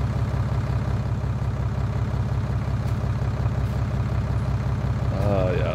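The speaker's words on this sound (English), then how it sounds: "This tractor sounds so good at idle." A tractor engine in Farming Simulator 19 idles with a steady, low, pulsing rumble throughout, close and continuous, with a voice briefly over it near the end.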